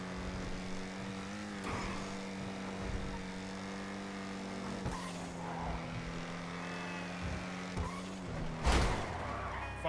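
A car engine in GTA Online on PC rattles along as a faint, steady droning hum, broken by a few brief louder bursts and a sharp noisy spike near the end.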